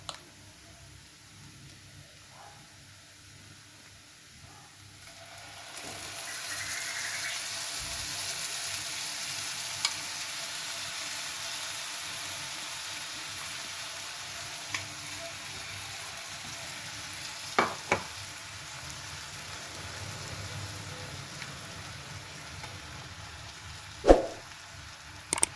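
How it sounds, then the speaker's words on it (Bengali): A paste of coconut, onion, garlic and ginger fries in a pan for a prawn curry, with a quiet start before a steady sizzle sets in, punctuated by occasional scraping and stirring knocks. "পেস্টটা দিয়ে দিলাম। দিয়ে এবার এটাকে ভালো করে কষাবো।"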